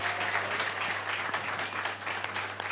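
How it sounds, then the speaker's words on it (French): Audience applauding at an evening stage show, a brief, dense, steady round of clapping with a low electrical hum running underneath. "On les applaudit encore une fois."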